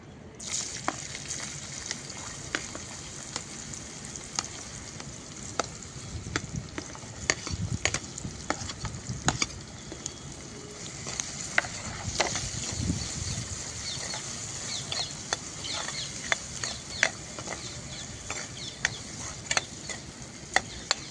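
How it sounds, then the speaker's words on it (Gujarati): Onions sauté in hot oil with star anise and asafoetida while fenugreek paneer is being cooked, with a steady crackling sizzle and scattered sharp pops and spatula scrapes throughout, fairly quiet and without talk. "હવે આપણે ડુંગળી સાતરી લઈશું"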